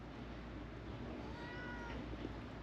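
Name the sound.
cat meowing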